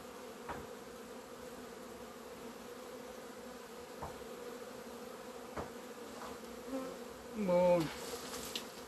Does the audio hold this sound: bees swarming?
yes